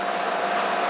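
Steady air-conditioning unit blowing in a welding shop, a constant broadband rushing whoosh with a faint steady hum, close and continuous, no voices.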